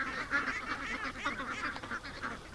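Ducks gathered at a lake in the rain give a dense run of overlapping quacks and honks, steady and moderately near, with no voices over them.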